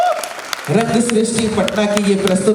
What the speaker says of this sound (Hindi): एक बार जोरदार ताली इनके लिए।